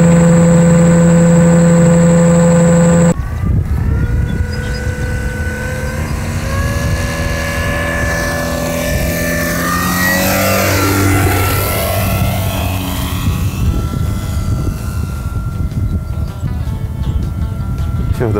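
A scale model airplane's engine in flight, starting with a steady high-pitched tone, then sweeping and rising in pitch as the plane passes, loud and close with a voice talking over it.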